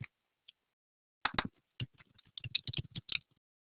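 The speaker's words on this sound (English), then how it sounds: "at least one of you guys is typing" Keys clatter on a computer keyboard in a quiet room: a couple of isolated taps, a pause, then a quick burst of close, crisp typing strokes in uneven rhythm.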